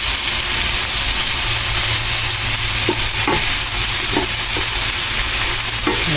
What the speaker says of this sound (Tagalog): Gigisahin lang natin siya